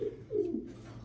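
Pigeons cooing at a Bangladeshi pigeon market stall, two soft low rolling coos close by, the second one louder, with quiet ambience in between.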